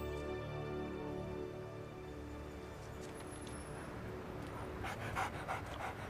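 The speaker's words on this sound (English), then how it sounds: "Oh, look, a doggy out of nowhere." A dog pants steadily at close range on a city street, with rhythmic quick breaths over a low hum of traffic.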